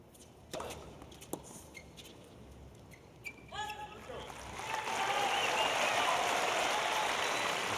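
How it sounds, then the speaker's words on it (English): A tennis crowd at the US Open breaks into applause for a point won by Townsend and Shelton in a mixed doubles quarterfinal, swelling from quiet court ambience into a sustained, broad clapping roar. "crowd getting behind Townsend and Shelton as they win their first point out here"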